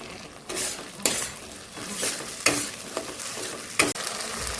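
Whole garlic cloves and spice masala sizzle and fry in a pan for a chicken gizzard and liver curry, with a steady hiss broken by several loud stirring scrapes and clatters of a spoon against the pan.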